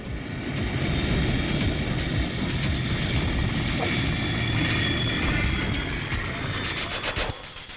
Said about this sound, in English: most turbulence occurs when giant airliners extend their flaps to slow down for landing